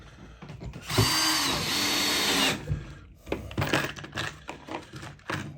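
A handheld power drill drives screws into a wooden backboard for a homemade fairground high striker, whirring in a sustained close burst with shorter on-off bursts following.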